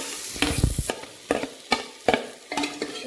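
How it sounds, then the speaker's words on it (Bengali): Whole spices, ginger and garlic frying over low gas in a pan, with soft sizzling broken by repeated stirring scrapes and clatters at an uneven rhythm, close by and moderately quiet, with no talk. "এটা মই কম গ্যাস করে ভাজি আছো"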